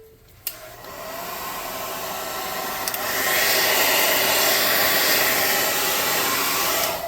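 A hot air tool roars steadily up close, drying a freshly made tabletop-game palisade craft piece, its broad hiss rising slightly and holding at a constant level.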